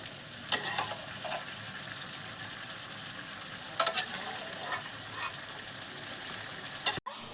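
Mutton (goat meat) frying with ground spice paste in a pan, a steady close sizzle with a few sharp stirring scrapes at intervals and a sudden cutoff at the end; no talking.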